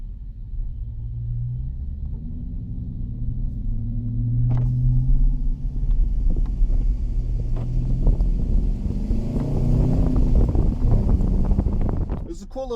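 A 2019 Dodge Charger R/T with the 5.7 engine, transmission in sport mode, drives with a steady low rumble and rising and falling engine tones throughout, heard from inside the car along with wind and road noise.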